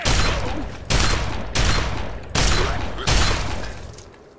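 A shotgun fires in Fallout 3: Point Lookout. Five loud, close blasts come in quick succession, each followed by a short decaying roar.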